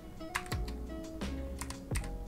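Python code being typed on a computer keyboard, a few soft clustered keystrokes and taps, close and quiet under a faint tonal background.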